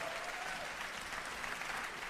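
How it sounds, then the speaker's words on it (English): A comedy show audience claps and cheers in a steady, faint wash of applause heard at a distance, with no speech. "you see how they're clapping?"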